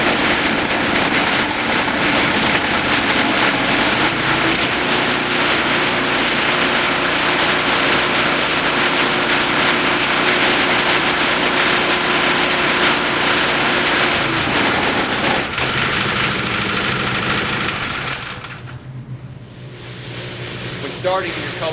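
Small petrol engine on a cold water pressure washer running steadily at close range, a constant loud drone with a brief dip in level near the end.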